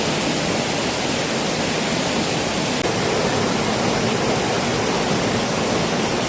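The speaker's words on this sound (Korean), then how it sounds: "흑석 계곡에 이렇게 물수량이 많았나 할 정도로 계곡물이 넘쳐 흐르는 것 같습니다" A swollen mountain stream in Heukseok valley rushes past in a dense, unbroken roar of white water, loud and close, with no voices over it.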